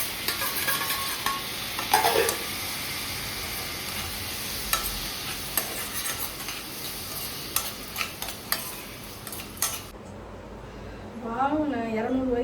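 Onions and tomato sautéing in a pan, a steady frying sizzle broken by scraping stirs and a few clinks, with a voice speaking briefly near the end.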